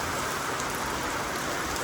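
Heavy rain pours down at night, a dense, loud, unbroken hiss of drops striking surfaces close by, with no other sounds standing out.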